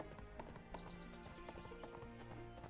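Elk- or goat-like mounts clip-clop through the video game ArcheAge, quick rhythmic hoofbeats running throughout at moderate volume, with faint game sounds and no speech.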